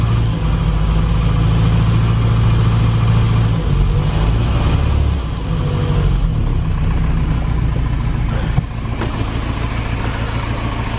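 An old Morris 8 car engine idles roughly on three cylinders, with sooted-up plugs and poor leads. It sounds close and loud, a steady uneven chugging with no talk.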